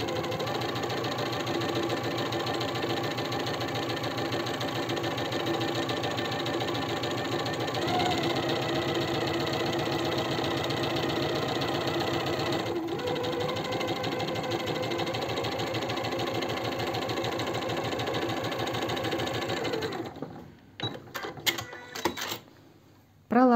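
A sewing machine stitches a straight seam on a silk blouse, a steady close mechanical whir running for about twenty seconds before stopping with a few handling clicks.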